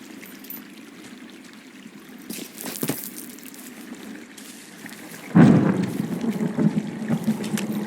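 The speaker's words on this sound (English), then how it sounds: "Hey, I heard some thunder." Distant thunder rumbles in the Firewatch video game wilderness, a soft low roll over quiet ambience, followed by a louder, rougher rumble swelling up in the last few seconds.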